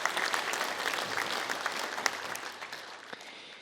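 Crowd at an innovation award ceremony applauding, a moderate, even wash of many hands clapping that holds steady and tapers slightly toward the end.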